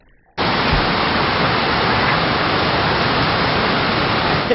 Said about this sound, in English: those waves will knock you over